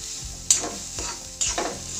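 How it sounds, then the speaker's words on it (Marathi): A dal mixture is sautéed in a pan over low heat for Solapuri purnavali, giving a soft, even sizzle under a few distinct scraping stirs and knocks of a spoon, close up, with no talking. "याला असं परतून घ्यायचं।"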